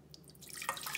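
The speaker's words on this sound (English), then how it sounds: "and then I'm going to do 1 cup of water in this pan" A cup of water is poured into a pan while making rock candy: a quiet, brief splash and trickle that begins partway through and carries on to the end.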